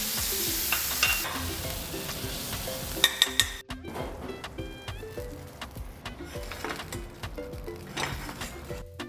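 Tomato, butter, garlic and onion fry in a pan, a sizzle over clinks and scrapes of utensils with a few sharp metallic taps near the middle, moderately quiet and without talk.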